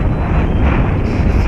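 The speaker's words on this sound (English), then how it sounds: "And it's getting windy." Loud, constant wind noise rushing and rumbling against the microphone at an off-road RC car race track, for a short stretch, with no voices.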